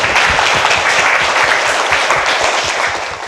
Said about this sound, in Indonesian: aplaus untuk kita semua anak-anak